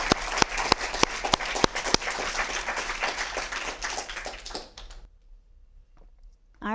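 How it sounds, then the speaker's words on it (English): An audience at a launch event for managing critical material needs claps loudly in a sustained burst, sharp individual claps standing out at first, then fading away to near silence. "please give them a round of applause."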